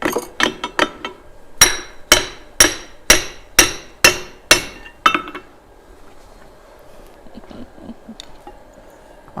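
Hammer blows on hot steel at an anvil while an axe is forged: a fast burst of ringing strikes, then a steady run of about eight evenly spaced loud, bright clanks, followed by a quiet workshop background.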